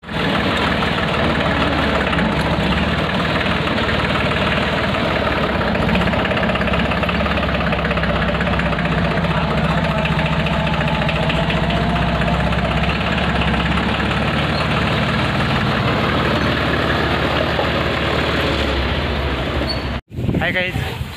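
A tractor's diesel engine idling at a washing spot, a loud, continuous rough rumble with a knocking texture heard close up, with a brief sharp dropout near the end.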